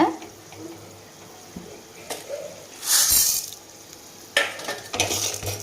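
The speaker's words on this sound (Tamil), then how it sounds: "இந்த உளுத்தம்பருப்பு, கடலைப்பருப்பு, இந்த பருப்புலாம் வச்சுருக்கோம் பார்த்தீங்களா, அதை போட்டு வறுக்கணும்." Urad dal and chana dal roast in a pan for a vegetable thogayal, a soft sizzle broken by scattered scraping stirs and a few louder clatters, close up, with no talking.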